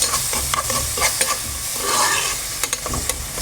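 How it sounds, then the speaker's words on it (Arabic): Onion and garlic frying in about three ladles of oil for a chicken and artichoke tagine, with a close, steady sizzle broken by scraping strokes of a spoon stirring the pan. "ونقلي البصله مع الثوم، نخليها مليح، نقليها مليح"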